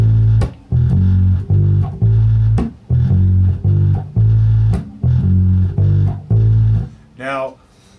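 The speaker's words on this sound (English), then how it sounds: "the basic line sounds like this." Electric bass plays a bass line, a loud, close run of sustained low notes in repeated phrases, ending with a brief vocal sound.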